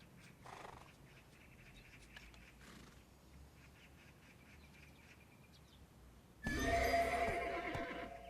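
A horse in the Korean folklore video game Tale of Duoksini neighs loudly near the end, a bright, rising whinny that bursts in after quieter game ambience and faint earlier calls.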